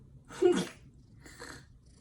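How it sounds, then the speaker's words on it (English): A small animal gives one sharp, close sneeze, followed a moment later by a softer snuffling breath. "Oh, don't sneeze at me, please."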